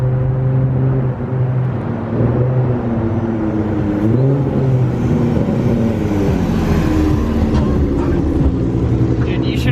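Ford Mustang 3.7 V6 with an M122 supercharger swap, revved slowly from low to high RPM during street tuning, a loud steady droning engine tone rising and dipping in pitch, heard from inside the car.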